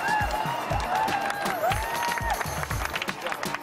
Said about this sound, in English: There's Greece clapping with relief